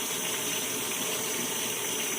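A potato with its skin on is rinsed under a running kitchen tap, a steady close rush of water splashing without pause, no talking.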